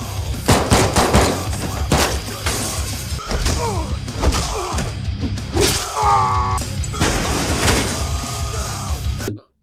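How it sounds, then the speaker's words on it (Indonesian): Rapid bursts of gunfire crack repeatedly amid clattering impacts and a tonal whine, loud and dense throughout. "Satu persatu peluru ia tembakan dan terjadilah baku hantam."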